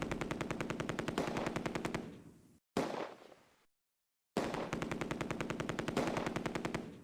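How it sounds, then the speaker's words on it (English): Rapid machine-gun bursts from MG42, Vickers and Bren guns in the World War II game Close Combat: A Bridge Too Far, loud and sustained, broken by a short pause and a stretch of silence before the firing resumes. "Another MG42 assaults forward and is targeted by the Vickers, Bren and rifle sections."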